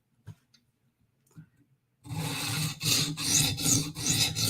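A knife is sharpened on a whetstone with light pressure to minimise the burr. After a near-silent start with small clicks, a steady, close, gritty rasping begins and runs in repeated back-and-forth strokes.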